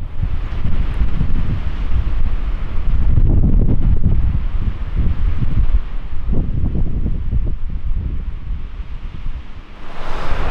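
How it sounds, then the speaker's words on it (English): Strong gusty wind ahead of an incoming storm front in north Yellowstone buffets the microphone in a loud, continuous roar with rumbling surges, no voices heard. "It is windy out here because a storm front is moving in."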